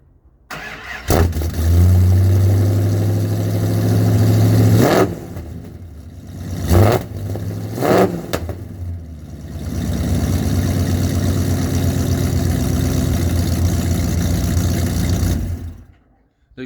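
A 400 cubic inch car engine starts, idles with a deep rumble, then revs sharply in two quick blips before settling back into a loud, lumpy idle, close by and with no talking.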